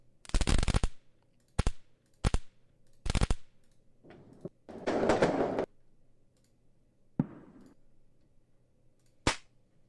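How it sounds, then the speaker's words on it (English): A firecracker sound effect for a game: several sharp crackling bursts, some short and snappy, others longer and rattling, separated by silent gaps, with no talking. "So we've got a firecracker sound here."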